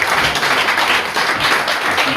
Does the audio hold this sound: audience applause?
yes